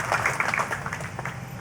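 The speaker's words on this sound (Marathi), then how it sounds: "या कोरिया आणि मचाडो कुटुंबियांचे आपण जोरदार टाळ्या वाजून अभिनंदन करूया." An audience applauds at a centenary Mercy Cross ceremony honouring two families: a dense, steady patter of many hands clapping fills the short stretch at an even level.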